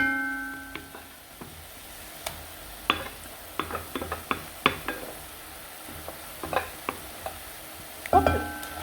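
Tomato sauce with tomato paste being stirred in a pan: a string of scraping, clacking spoon strokes at an uneven rhythm, close and fairly quiet, with no talking.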